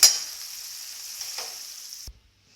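Rice is stirred into tamarind paste cooked in groundnut oil in a pan with the heat just switched off. A bright, steady sizzling hiss carries a couple of stirring scrapes, then cuts off abruptly into silence.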